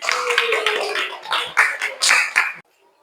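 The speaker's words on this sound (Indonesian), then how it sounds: "Tepuk tangan." A classroom of pupils in an Arabic-language lesson clapping hands together, a quick run of uneven claps lasting a couple of seconds before stopping abruptly into near silence.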